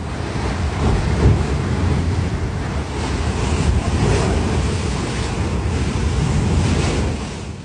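Pool water sloshes and surges into waves during a magnitude 7.1 California earthquake, a loud, continuous rushing wash like surf with heavy wind-like roar throughout.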